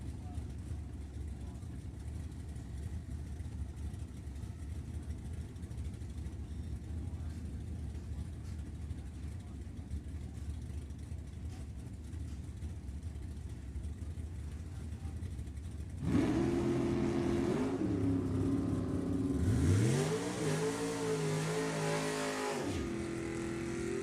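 Big-motor drag racing cars at the Pacific National Open run side by side, a steady engine roar building then surging into a loud, rising rev and pass in the final seconds, with an announcer talking over the background.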